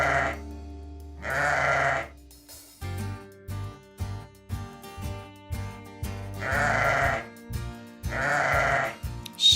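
Sheep bleat in loud, wavering calls, two at the start and two more near the end, separated by a bouncy children's music backing track.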